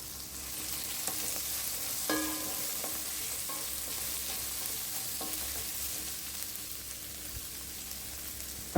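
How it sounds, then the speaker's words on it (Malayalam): Small shallots sautéing in a pan while being stirred for a pork roast, with a steady close sizzle and a few sharp clinks and scrapes of the spoon against the pan. "ചെറിയുള്ളി ചേർത്ത് കൊടുത്ത് നല്ലതുപോലെ ഒന്ന് ഇളക്കി കൊടുക്കാം"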